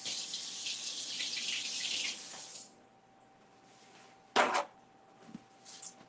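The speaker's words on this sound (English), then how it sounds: "Let me rinse." Water runs from a kitchen tap as hands are rinsed of cookie dough, a steady close gush for under three seconds that cuts off, followed by a brief sharp splash and light clunks.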